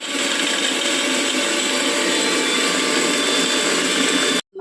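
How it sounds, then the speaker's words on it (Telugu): Coconut pieces whirring in a kitchen mixer grinder make a loud, steady motorized roar close by for several seconds, then cut off abruptly at the end, with no voices. "ఈ కొబ్బరి ముక్క కొంచెం మిక్సీ బట్టి వేయాలి"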